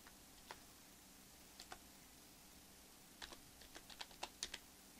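A handful of faint, scattered keystrokes on a computer keyboard while typing into a Windows Explorer address bar, with irregular isolated clicks early on and a quicker cluster toward the end, alone in a quiet room.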